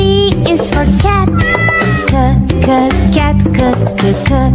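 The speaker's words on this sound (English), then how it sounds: "C is for cat" A cat meows repeatedly in close, clear, insistent calls over a bouncy children's alphabet song, the meows recurring throughout.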